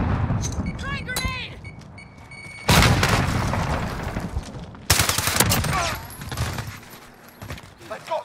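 Grenade blasts in Call of Duty: Modern Warfare multiplayer, two loud, heavy booms a couple of seconds apart over steady gunfire, with a voice talking near the start.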